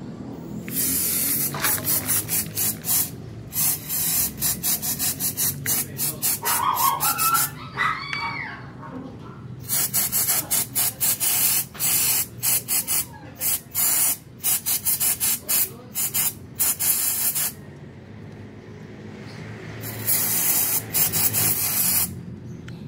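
Aeropack brake cleaner sprayed on parts of a Jeep Wrangler during maintenance, heard as repeated loud aerosol hissing bursts, some long and some short and stuttering, with brief pauses between them and a faint voice partway through.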